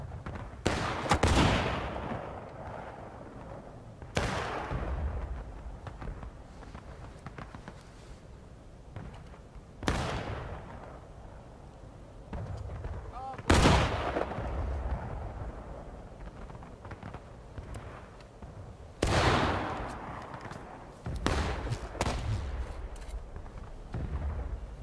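Musket volleys crack and boom in a War of Rights battle at the Sunken Road, loud rolling fusillades recurring every few seconds over continuous distant crackling gunfire.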